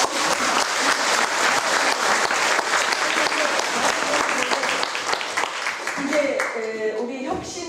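A large crowd claps steadily and loudly throughout, dense applause with a few raised voices near the end.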